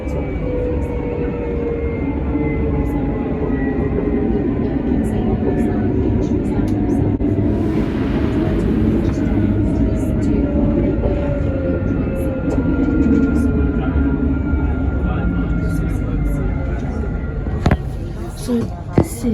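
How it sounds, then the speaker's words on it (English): A Nottingham tram rolls past the Bulwell Forest level crossing with a steady low rumble and whining motor tones that shift in pitch, close and continuous, with faint clicks and clatter near the end. "Here's Tram 225, Doe Scott CBE"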